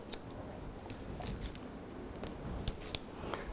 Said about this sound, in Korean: 모발을 들어서 90도인 상태에서 튀어나오는 머리를 잘라줍니다